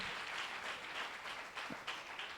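Applause from a church congregation at a Christmas service in Dubai, a sustained, fairly faint wash of many hands clapping together.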